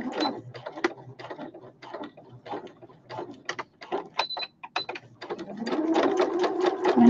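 A sewing machine stitches around a fabric sewing runner in quick mechanical bursts of rapid clatter, close up, with brief pauses and a longer steady run at the end.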